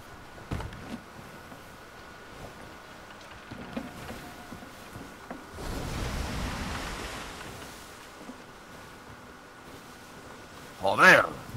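Ocean waves and rushing water in the pirate game Sea of Thieves, a soft, steady wash that swells into a louder surge midway, with wind over it and a few knocks and a sharp burst near the end.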